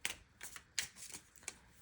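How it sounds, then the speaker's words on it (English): Tarot cards shuffled close by in a few quick, papery bursts with short pauses between them, soft and steady, with no voices. "you'll hear me shuffle in the background"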